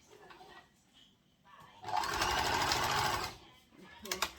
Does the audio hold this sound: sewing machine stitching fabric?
yes